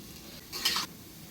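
Bottle gourd cooking with prawns in a pan gives one short, close burst of stirring and sizzling, about a third of a second long, over a quiet low simmer.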